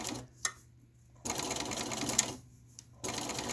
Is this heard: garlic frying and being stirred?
no